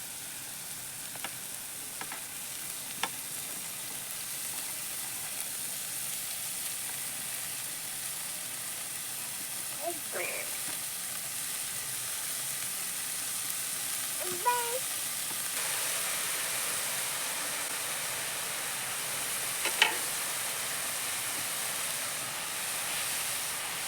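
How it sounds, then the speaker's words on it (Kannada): Chopped dill leaves (sabsige soppu) sizzling with cooked onions in a pan, a steady soft frying hiss throughout with a few faint stirring clinks, no talk. "ಕಟ್ ಮಾಡಿಟ್ಟಿರುವಂಥ ಸೊಪ್ಪನ್ನು ಇದಕ್ಕೆ ಸೇರಿಸ್ಕೊಳ್ತಾ ಇದ್ದೀನಿ."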